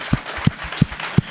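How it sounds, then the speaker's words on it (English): Four slow, evenly spaced claps ring out over quiet room tone, a sparse, measured round of applause from an audience at a small business event. "you can give her a round of applause"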